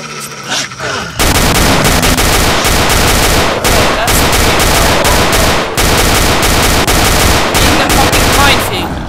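Rapid video-game gunfire crackles loud and dense, nearly continuous bursts with brief gaps, close and dominant throughout with no talk over it.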